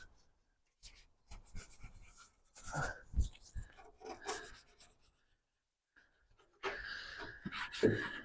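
A small lug nut brush scrubs inside a Seat Ibiza engine bay, making close, irregular bristly rubbing and scratching strokes separated by short pauses, with a louder, denser burst near the end.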